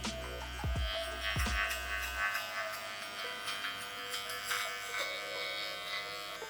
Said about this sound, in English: When you're trimming it down, go in all different directions.